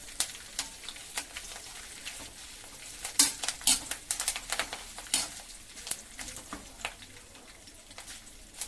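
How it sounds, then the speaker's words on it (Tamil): Curry leaves crackle and spit in hot oil after frying kara boondi for a spicy snack mixture, a dense run of sharp sizzling pops with occasional stirring and utensil clinks, close and fairly loud, no talk. "இந்த படபடப்பு கொஞ்சம் அடங்கினோன்னு இந்த கருவேப்பிலையெல்லாம் எடுத்துடலாம்."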